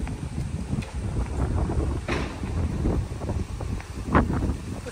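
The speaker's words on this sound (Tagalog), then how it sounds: "Sarap ng hangin. Ang lamig guys." Cold wind blows outdoors in Hokkaido, Japan, a steady rushing and buffeting across the microphone with small gusts and no clear voices.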